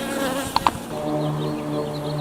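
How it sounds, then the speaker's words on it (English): Honey bees buzzing as they settle into a new home, a steady close drone with a couple of sharp taps partway through, no voices. "Looks like they have begun to make this their home and cleaning out some of the dead bees."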